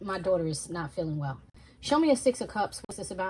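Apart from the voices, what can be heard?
No everyday noise stands out behind the speech.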